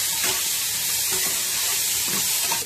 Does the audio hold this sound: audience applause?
no